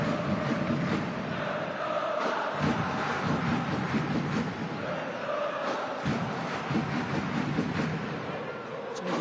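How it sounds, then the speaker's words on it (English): A big crowd at an AFC Champions League football match in the Sultan Ibrahim Stadium, Johor, keeps up steady drumming and chanting, a dense, continuous roar with a rhythmic pulse that carries throughout. "Quite remarkable how much noise 50 people can make if you had a drum."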